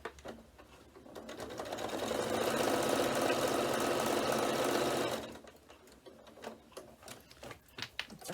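A sewing machine stitching a fabric notebook case, running in a steady, fast mechanical whir that builds up, holds for a few seconds and then stops, leaving scattered handling clicks and taps.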